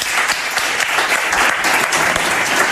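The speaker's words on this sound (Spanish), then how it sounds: "Un aplauso para él, Málaga, os pido" Concert audience in Málaga applauding the drummer after his introduction; a loud, steady wash of many hands clapping throughout, with no voices above it.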